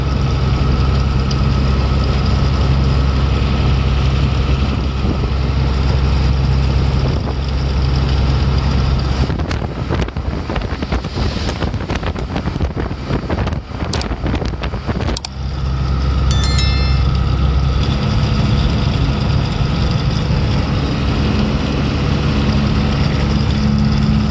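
A vehicle engine hums steadily while driving through hills, with a strong low drone that drops out into rumbling noise midway before returning, no talking, heard from inside the vehicle.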